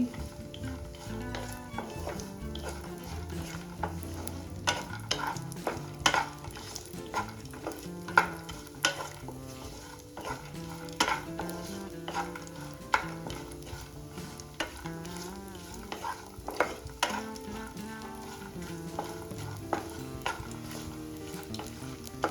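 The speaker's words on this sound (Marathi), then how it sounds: "आता आपल्याला हे सर्व ड्रायफ्रुट्स एक मिनिट परतून घ्यायचे आहे ते जळणार नाही याची काळजी घ्यायची" Almonds and raisins being roasted in a kadhai, with soft continuous sizzling and frequent scraping, stirring clicks of a spoon against the pan throughout, close and fairly quiet.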